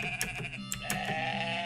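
A video-game sheep bleats in short wavering calls, a couple of quick bleats followed by a longer sustained one, clear and close.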